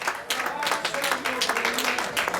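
Church congregation applauding at an evening service, a brisk continuous clatter of many hands close by, with some voices mixed in.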